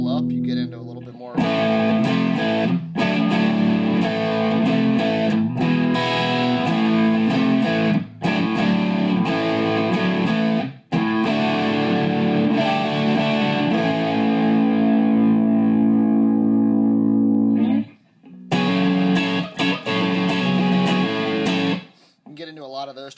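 An electric guitar through a Yellow Cab overdrive pedal plays sustained, distorted chords and notes as the volume is rolled up. The sound is loud and continuous, with brief pauses and a short gap near the end.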